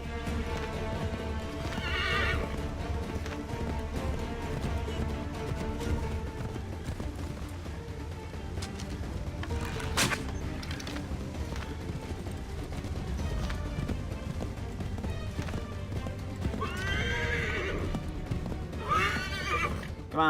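A horse neighs and gallops in the video game Assassin's Creed III. The galloping is continuous and loud, with whinnies breaking through over a dense game soundscape.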